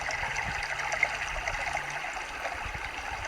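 Oak Creek in Sedona, Arizona flows with a soft, steady trickle and gurgle, faint and continuous with no voices.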